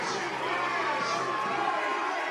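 Crowd noise swells at a West Texas A&M vs Dallas Baptist college volleyball match, a steady roar of cheering and chatter from a packed gym, loud and continuous for a couple of seconds.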